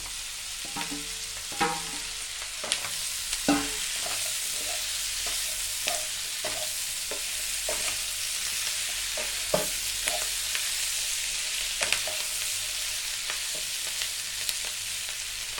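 Chicken pieces for dry chilli chicken are stir-fried with softened onions in a hot pan. A continuous sizzle runs throughout, with repeated spatula scrapes and knocks standing out at irregular intervals, close by and with no talking.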